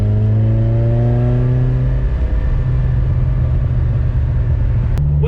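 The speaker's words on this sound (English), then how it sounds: "she's back together and the engine's running and it didn't tear itself apart" A Ferrari 308 engine idles steadily after a timing belt job, a loud, close, smooth drone with a brief rev that settles back to an even hum, no voices present.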